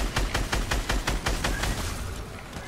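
Rapid bursts of gunfire from the video game Fortnite, a fast string of evenly spaced sharp shots over about two seconds before trailing off, loud and close with no talk.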